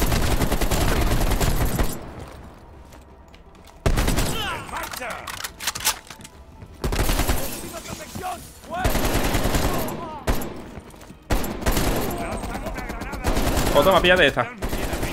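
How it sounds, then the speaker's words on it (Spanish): Heavy machine gun fire in Call of Duty Cold War, set in Cuba: loud sustained bursts broken by short pauses, close and harsh, with a player talking in Spanish between and over the shooting. "Destruid esa ametralladora pesada."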